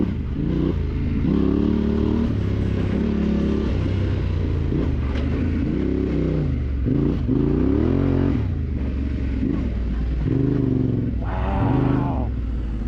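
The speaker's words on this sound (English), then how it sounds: "Let's just listen to the bikes" Yamaha Tenere 700 adventure motorcycles ridden off-road on a New Mexico loop, engines droning loudly with repeated rises and falls in pitch as the riders rev and shift, close and continuous over rough-ground clatter.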